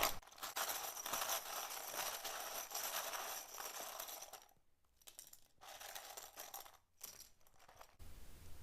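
Tarot cards shuffled by hand in a steady, dense papery riffle that breaks off into short pauses and bursts near the end, close and fairly loud, with no talking.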